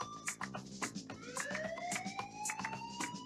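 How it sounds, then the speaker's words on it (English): A siren sound effect, its pitch rising and sweeping in repeated wails over a busy background of rhythmic beats and music, moderately loud and with no talk. "Now give me a siren"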